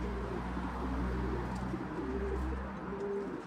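Racing pigeons coo in a loft in the London area, soft repeated low cooing phrases close by over a steady low background hum, with no talk.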